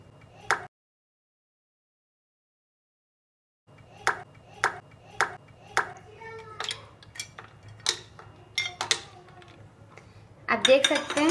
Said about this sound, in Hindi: ये मैं आइस डालूंगी इसमें।